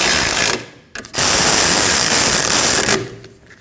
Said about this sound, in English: And then tighten those two 12mm bolts.